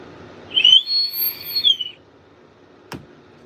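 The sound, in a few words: whistle called the Dr. Dabber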